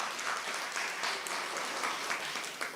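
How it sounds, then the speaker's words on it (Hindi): An audience claps throughout a spiritual class gathering at Pandav Bhawan, a steady, fairly loud wash of many hands applauding together with no pause. "तालियां तो बजाओ जरा।"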